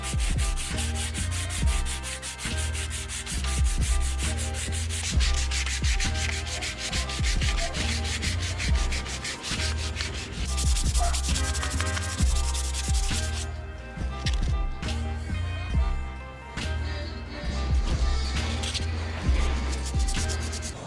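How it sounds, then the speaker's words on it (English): A roll bar for a Miata off-road build sanded down by hand, a steady, loud rubbing and scraping with continuous strokes throughout, no voices. "we just finished sanding this thing down"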